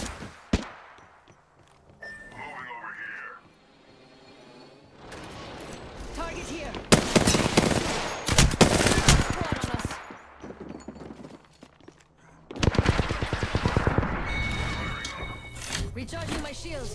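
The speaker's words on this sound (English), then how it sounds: "Taking fire." Gunfire in the Apex Legends video game, with bursts of rapid shots in loud clusters separated by quieter gaps, and a voice speaking now and then between them.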